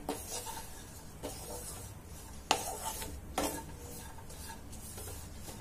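A spoon scrapes and stirs a thick date and dry fruit laddoo mixture in a pan, making soft repeated rubbing strokes with a few sharper knocks against the metal, with no voices.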